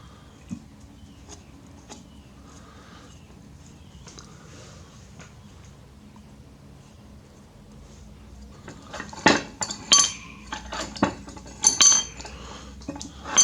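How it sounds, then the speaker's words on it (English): Near-silence, then several sharp metal clinks and knocks close by, as a vice's bolt is unscrewed and its parts rattle together. "Yeah, just unscrew it"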